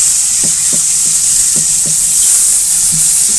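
Dal sizzles in a hot pan as tomatoes go in, a steady bright frying hiss running throughout with a few soft stirring knocks and taps underneath, close and alone without voices.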